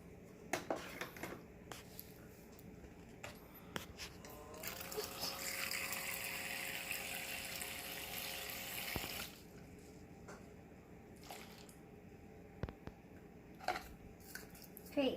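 A toy electric dishwasher runs water in a quiet mid-clip stretch of steady trickling and hissing, framed by faint handling clicks and taps before and after.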